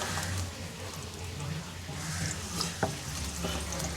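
Chopped garlic sizzles steadily in hot oil in a kadai while cooking chilli chicken, a continuous frying hiss with light stirring clinks as someone talks over it.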